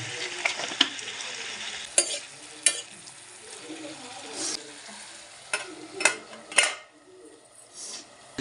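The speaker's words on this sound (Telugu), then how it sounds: "సో మొత్తం కలిపి టమాటా, ఉల్లిపాయలు, పచ్చిమిర్చి అన్నీ కలిపి ఒకేసారి వేపిస్తున్నాం" Tomatoes, onions and green chilies sizzle in a pan while a utensil stirs them, with several sharp metallic scrapes and clinks against the pan over a continuous frying hiss, close and without talk.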